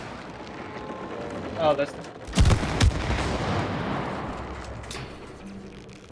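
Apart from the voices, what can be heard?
gun shooting, from the video game It Takes Two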